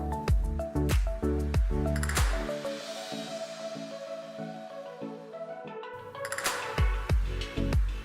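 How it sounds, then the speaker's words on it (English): Corn fritter batter with grated mozzarella, seasoning and chili flakes is stirred in a bowl, making close, wet squelching strokes in a fairly regular rhythm, with a quieter stretch midway before the squishing picks up again. "Mix everything together."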